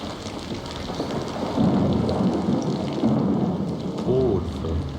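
Steady rain pours down in the Australian outback with a dense hiss, swelling slightly at times, accompanied by low rumbling in the background.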